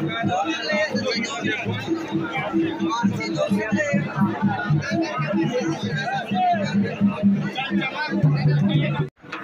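A dense crowd of pilgrims at the Deoghar Baba Dham temple during Sawan creates a steady, close murmur of overlapping voices and shuffling movement, with one voice talking prominently above the hubbub.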